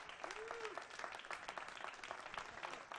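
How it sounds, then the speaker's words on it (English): Applause from a small audience at a 10-ball billiards challenge match, a short burst of scattered clapping lasting a few seconds, fairly quiet and distant. "You know, that one got an applause."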